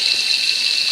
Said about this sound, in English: we have water flow, something that we had been lacking for about 7 days